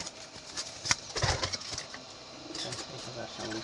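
Pigeons at a pigeon sale coo and briefly flap their wings, a burst of flutter near the middle over soft cooing, with people talking nearby.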